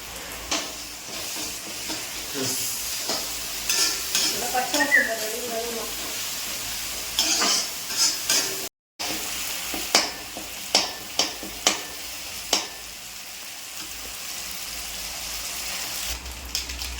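Ginger and garlic sizzle and hiss in a hot pan, a steady close frying sound broken by repeated scraping and stirring knocks, with a person talking over it at times.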